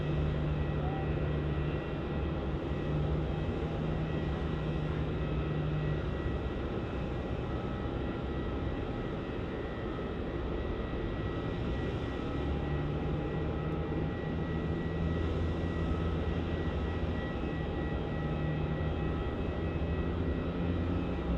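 Jetstar Airbus A321neo airliner touching down at Melbourne Airport, heard as a steady, broad engine and airflow roar that holds throughout at moderate distance, with faint talk beneath.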